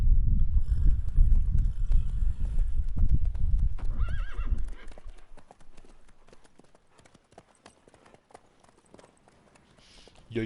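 Steady clip-clop of hooves at a trot for several seconds in The Witcher 3: Wild Hunt, then fading out, with a horse neighing; game-like ambience follows quietly.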